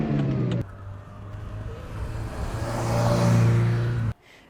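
Ferrari 328 GTS engine running steadily, a low droning hum that swells louder toward the end before cutting off abruptly.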